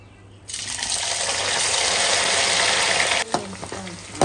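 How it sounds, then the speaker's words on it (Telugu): Chicken pieces fry in hot peanut oil, kept from getting too crisp, for Telangana gongura chicken pickle. A loud, steady broadband sizzle starts suddenly, holds for nearly three seconds, then drops to quieter crackling and a few light clinks. "ఇలా వేయించుకోవాలి. చికెన్ కూడా గట్టిగా వేయించుకోవద్దు."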